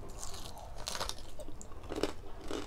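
Crispy lechon kawali, fried pork belly, chewed up close at low volume, with a steady run of soft crunches and bites and no talking.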